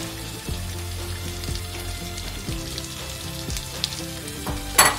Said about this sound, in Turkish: Eriyen tereyağının içine yemeklik doğradığım soğanlarımı atıyorum.